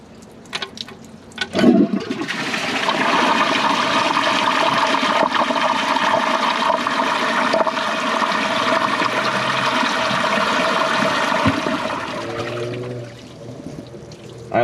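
Flush of a 1996 Kohler Portrait Lite toilet with an overfilled tank, a long, loud, steady water rush lasting about ten seconds after a brief clunk, then tapering into gentle refill trickling.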